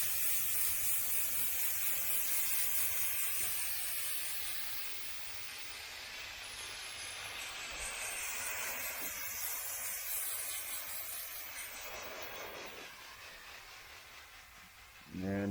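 Spray paint can hissing steadily as coats go onto interior trim pieces for a 1978 El Camino SS, a continuous close spray with slight dips in level and a brief pause near the end.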